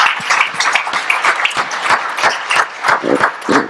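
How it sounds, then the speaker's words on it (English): An audience applauds presenters at a graduation ceremony, a loud, close burst of many hands clapping in a dense, continuous patter with no voices over it. "They get an extra round of applause because they're first."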